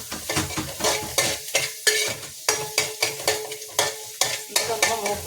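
Fried rice tossed and stirred in a hot pan, with a steady run of rhythmic scraping strokes over a continuous close, loud sizzle.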